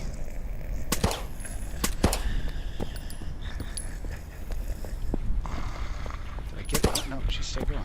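Gunfire from a weapon in an indie zombie video game, heard as several sharp, loud shots at irregular intervals over a steady game background.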